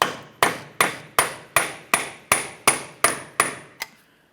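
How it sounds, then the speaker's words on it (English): Eleven light, evenly spaced hammer blows strike a punch to free the axle from the wheel bearing hub of a 2012–2015 Honda Civic, each a sharp metallic tap, close and clear with no talk. "A couple light taps with a hammer and punch for this."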